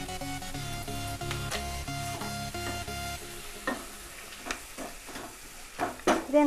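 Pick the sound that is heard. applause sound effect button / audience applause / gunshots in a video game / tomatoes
tomatoes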